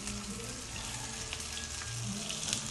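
Vegetable lumpia frying in hot oil, a quiet continuous crackling sizzle with scattered pops, heard alone.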